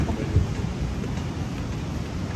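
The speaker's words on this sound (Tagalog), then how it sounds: "Mga lakas ng ulan oh." Dense, steady roar of heavy rain pouring down, a constant broadband wash with no pauses and no voices.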